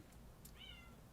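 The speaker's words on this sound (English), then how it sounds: "The cat's being loud." A house cat meows loudly once, a rising drawn-out cry after a couple of faint clicks, heard close against a quiet room with no talk.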